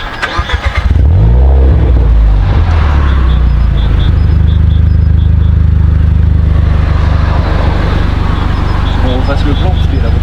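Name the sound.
car passing by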